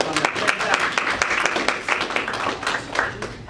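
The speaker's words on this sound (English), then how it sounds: "Let's give everybody a round of applause on that." An audience claps through a short burst of applause at a live comedy show, the sharp hand claps fairly close and uneven, mixed with a few indistinct voices.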